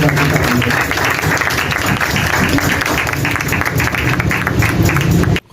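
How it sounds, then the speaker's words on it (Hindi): A church congregation at a Sunday service applauds loudly, a dense wash of clapping that holds steady for several seconds and then cuts off abruptly. "जोरदार तालियों में वेलकम करते हैं खुदा के नाम को, खुदा की तारीफ।"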